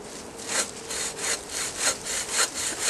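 A big-toothed hand saw cuts through wood in steady rhythmic back-and-forth strokes, about eight rasping passes, close and clear with no talking.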